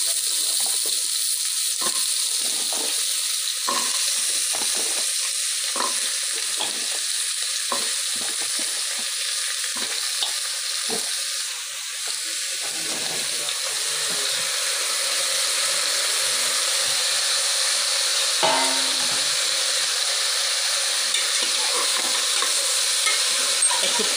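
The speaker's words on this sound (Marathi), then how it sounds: "तुपामध्ये मी हे गाजर परतून घेत आहे।" Carrot pieces sauté in ghee with a constant bright sizzle, while a spoon stirs and scrapes the pan in irregular strokes, close up and without speech.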